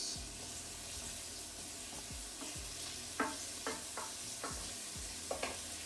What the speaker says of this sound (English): And I'll just let those brown.